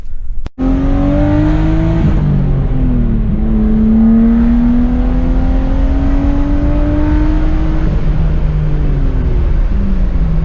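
Turbocharged drift car at full throttle, a loud close engine climbing through the revs with a quick shift, then pulling hard in a steady rising drone with the turbo whirring.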